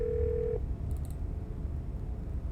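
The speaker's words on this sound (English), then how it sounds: "Oh shit, call Benito. The phone rings." A telephone ring in the horror game Scarlet Hollow: one steady electronic ring tone for about half a second, then a few faint, quick high beeps over a low background rumble.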